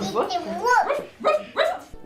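Someone imitates a dog with several yipping, barking vocal sounds in quick succession, close and clear, in an intergenerational program setting with children and older people.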